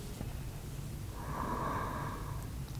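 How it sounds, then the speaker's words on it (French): A single slow inhale through the nose during a beginner yoga exercise, soft and close, with a faint airy rush swelling at the middle over low background hum. "Et j'inspire."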